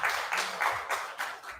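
Audience clapping at a comedy event, a steady wash of applause rising and dipping in several swells, moderately loud and close, with no talking.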